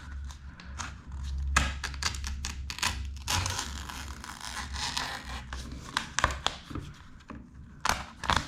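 Self-adhesive wallpaper mural being cut along its edge, close crisp slicing and tearing with a few sharp taps near the end, no voices.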